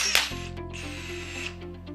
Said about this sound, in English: I'm going to set one in a grip range that is within the specification of this rivet. I'm using the Huck BT46 battery tool.